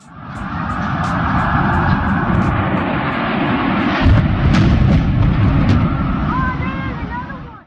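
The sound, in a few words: airliner Flight 175 hitting the South Tower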